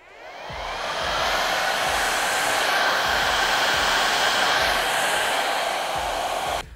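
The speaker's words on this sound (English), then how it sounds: "I'm going to use a diffuser, and a diffuser gives me the heat so we can set the hair into this texture" A hair dryer fitted with a diffuser blows steadily and loudly for several seconds with a constant rushing whoosh, alone with no talking, before cutting off at the end.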